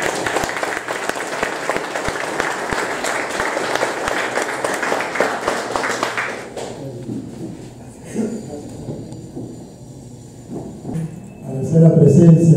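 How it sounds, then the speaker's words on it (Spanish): Loud applause from an audience at a civic event announcing daycare construction, dense clapping for about six seconds before fading into quieter room noise and a brief burst of voices near the end. "Fuerte aplauso para ellos."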